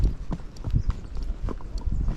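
A Tennessee Walking Horse's hooves clip-clop along a dirt trail at Folsom Lake, a steady close-up walking rhythm of muffled thuds with some faint rustle, and no talk over it.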